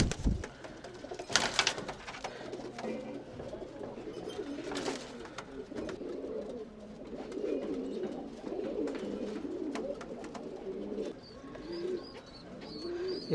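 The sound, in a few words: tumbler pigeons cooing in a loft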